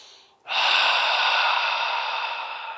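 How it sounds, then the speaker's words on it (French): A person takes one long, deep inhale through the nose during a qigong exercise. The breath is close and steady and fades slightly toward the end. "J'inspire."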